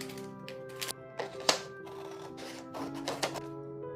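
Printed paper is cut out with scissors, making a run of quick, crisp snips and rustles close by, irregular in rhythm, with no talk.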